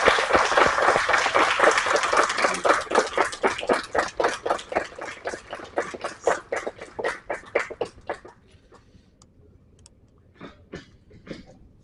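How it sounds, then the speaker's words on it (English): Audience at the Lalji Singh Memorial Lecture applauds to welcome speaker Dr. Rajesh Pandey, a dense burst of clapping that thins out over several seconds into a few scattered, separate claps. "Let us welcome him with a warm round of applause."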